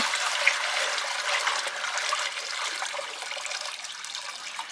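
Water pouring and splashing into a poultry water container beside a chicken coop in cold weather, a steady close hiss and trickle running continuously at moderate loudness with no talk.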